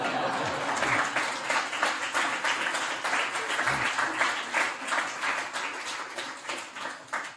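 An audience claps and murmurs during a talk. The applause is steady and fairly loud, with a few audible chuckles mixed in, and it thins gradually toward the end.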